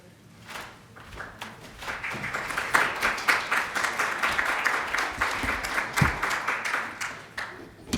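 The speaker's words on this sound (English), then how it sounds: "All right, so round of applause." Audience round of applause at a Python tech conference lightning talk, individual claps audible at first, then swelling into steady moderate clapping from a medium-sized crowd.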